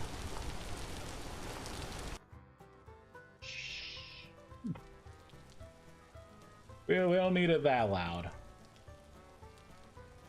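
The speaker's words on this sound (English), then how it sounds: "That rain is loud." Loud rain weather effect in the video game ViesCraft, a broad hiss filling the opening two seconds before cutting off abruptly, followed by quieter game tones and someone talking.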